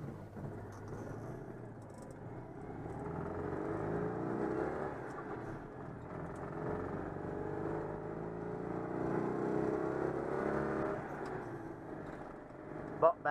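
A Citroën 2CV's small engine with an ignition problem runs steadily nearby, its hum rising and falling slightly as it revs, with a brief knock at the end.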